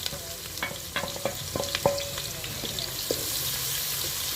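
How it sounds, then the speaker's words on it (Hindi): Finely chopped onion stirred and frying in hot ghee in a pan, a steady sizzle with scattered scraping and clinking stirs, close and fairly loud, no talking. "प्याज़ों को घी में अच्छी तरह से मिक्स करेंगे और 3 से 4 मिनट तक प्याज़ों को हमने लाइट ब्राउन करना है"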